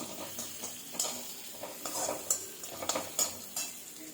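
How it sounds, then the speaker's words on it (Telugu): Turmeric being stirred through a potato and spinach mixture for aloo paratha filling, with a run of scraping, rubbing strokes against the pan at an irregular rhythm, close and fairly quiet, without talk. "ఇదంతా బాగా కలుపుకొని"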